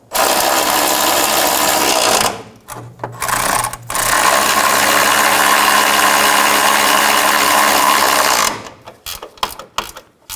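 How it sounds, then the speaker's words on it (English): The three base bolts of a rear engine mount on a 2013-2017 Honda Accord are snugged down, with loud sustained mechanical ratcheting broken by short pauses and quick clicking bursts near the end. "Snug down the 3 bolts."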